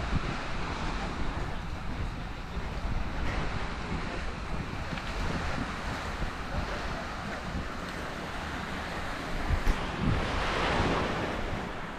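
Ocean waves wash steadily onto a Caribbean beach on the Mexican coast at dawn, a constant broadband roar with wind buffeting the microphone and a slight swell near the end.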